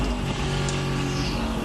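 The engine of the number 50 Panoz racing at the Portland Grand Prix in the American Le Mans Series, heard from onboard as a loud, sustained, steady roar that fills the whole moment, with no speech.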